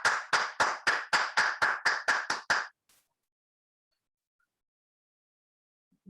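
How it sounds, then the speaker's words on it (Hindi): About ten crisp, evenly spaced claps ring out close to the microphone during an online webinar to welcome a speaker, then stop abruptly and leave near silence. "आपकी जोरदार तालियों के बीच, खतरनाक तालियों के बीच"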